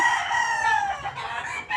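A rooster crows loudly and close by, one drawn-out call with a rising and falling tone.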